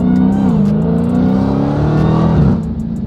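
Dodge Hellcat Redeye with its mufflers deleted, revving loudly and close: a continuous raw engine roar that wavers and dips in pitch, then drops off sharply near the end.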